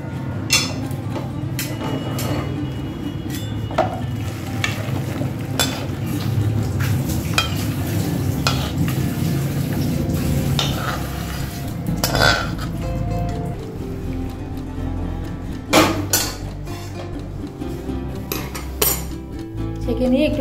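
Metal utensils clink and scrape against a pan while cooked papaya pieces for papaya candy are lifted out and strained, with irregular clattering knocks over a soft low rumble of frying, close and with no voices.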